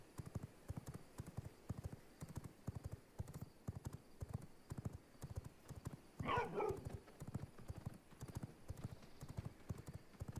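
Steady rapid hoofbeats of a galloping horse in the V Rising video game, an even clip-clop rhythm running throughout under a faint background hum, briefly overlaid by a short voice.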